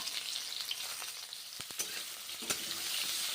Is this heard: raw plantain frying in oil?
yes